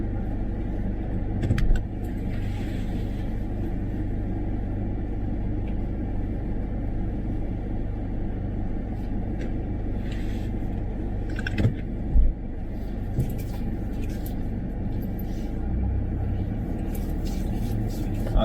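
A learner driver's car moves off and drives steadily with a low engine rumble and road noise inside the cabin, a few clicks along the way, while an instructor talks over it.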